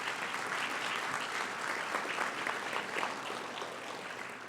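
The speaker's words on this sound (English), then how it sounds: "Let's give them another big round of applause." A civic audience at a State of the City address in Gresham gives steady, even applause that lasts over four seconds. The clapping sounds moderately distant and dense, like a large room.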